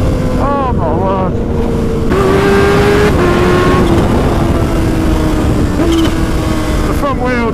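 A tuned 250 hp Kawasaki H2 motorcycle accelerates hard on the road, its loud engine note climbing steadily through the gears with sharp shift breaks, heavy wind rush throughout and a rider's voice speaking briefly over it.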